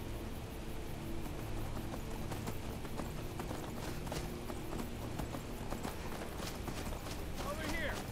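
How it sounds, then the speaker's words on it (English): A horse gallops away in a video game with rapid, steady clip-clop hoofbeats that stay close and loud over game background sound. "Why does my horse always run off on its own?"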